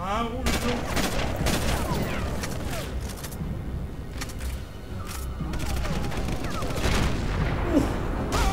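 Rapid bursts of gunfire in Sniper Elite crack repeatedly, some in quick volleys, loud and close, with booms and mechanical clatter amid game noise and brief voices.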